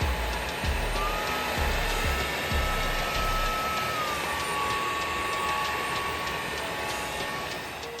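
A UWANT D600 self-cleaning vacuum mop runs over a laminate floor strewn with spilled soda, a steady close motor whine with a rising tonal hum and a few soft early bumps, no talking.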